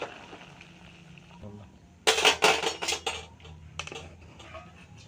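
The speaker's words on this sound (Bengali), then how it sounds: "এখনও ঢাকা উল্টিয়ে কাঁঠালটা নামিয়ে নেব।" A metal lid is lifted off a pot of boiled jackfruit in a home kitchen, giving a sudden burst of clanking and scraping metal, then a few lighter clinks against a quiet background.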